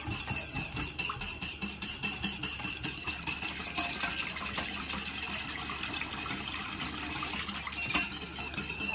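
A whisk scrapes and clinks quickly and rhythmically in a bowl, emulsifying a vinaigrette of sugar, lemon juice and olive oil. The strokes are close and fairly loud, with brief louder clinks partway through.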